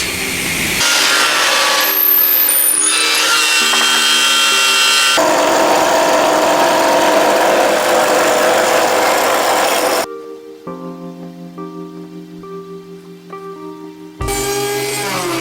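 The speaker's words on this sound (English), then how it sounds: "I can adjust it while the router is still running." A router spins while cutting the 1-inch-thick wooden top of a Tardis-shaped bank, a loud continuous whine and grinding rasp that shifts in pitch as the cut changes, drops into a quieter running hum, then returns to full cutting.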